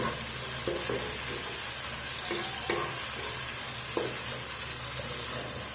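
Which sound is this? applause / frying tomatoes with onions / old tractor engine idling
frying tomatoes with onions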